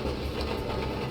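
Simulated train rolling along in Train Mechanic Simulator 2017, a steady broadband rumble with faint rail rhythm, continuous and fairly loud with no talking.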